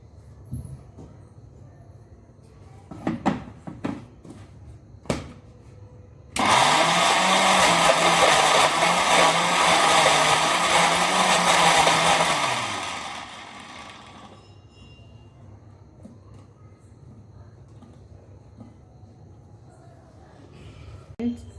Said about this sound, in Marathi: आता मी मिक्सरमधून फिरवते त्याला